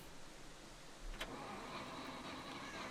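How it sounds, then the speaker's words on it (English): Car engine starting in the SCUM survival video game, a faint cranking with a brief sharp click, then a low, quiet rumble continuing steadily. "let's have a look at just starting the vehicle firstly"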